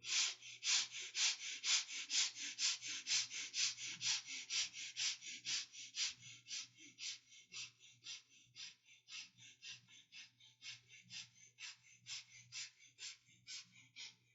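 A person meditating breathes slowly and evenly in a quiet room, with a long series of soft, close breaths in a steady rhythm that fade gradually toward the end.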